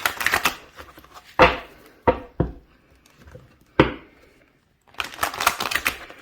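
A tarot deck is shuffled close by in short rustling bursts, with sharp taps and slaps between them and brief quiet gaps.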